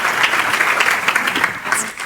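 Applause from a conference audience for panel speakers, a dense sustained clapping that stays loud and close throughout the short burst.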